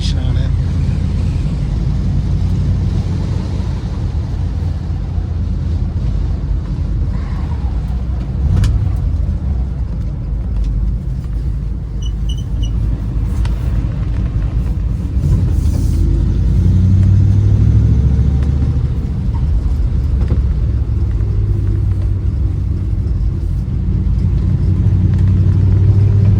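A 1951 Ford Victoria drives along with its engine running, a steady mid-pitched rumble and road noise that swells slightly as it accelerates and shifts. A voice can be heard faintly over it.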